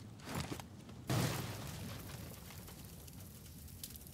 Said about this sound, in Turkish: Araba patladı.